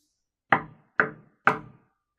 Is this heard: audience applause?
no